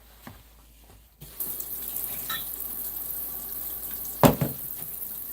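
Cold water running from a kitchen tap, a steady broadband rush that starts abruptly and flows evenly, with a couple of sharper knocks or splashes near the end.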